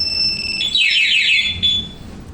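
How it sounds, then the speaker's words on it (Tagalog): A Yamaha Fazzio scooter's anti-theft alarm sounds after the parked scooter is moved, a loud, shrill, warbling electronic wail that sweeps up and down for about two seconds, close and alone. "Ayan, alarm siya."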